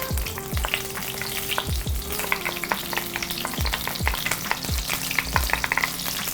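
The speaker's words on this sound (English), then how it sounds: "So I'm gonna go ahead and add some garlic." Garlic sizzles in melted butter in a pan, a steady close crackle punctuated by repeated low thumps and scrapes of stirring, with no talking.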